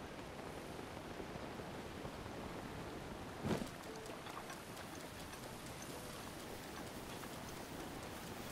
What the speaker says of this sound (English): Not running around in the rain.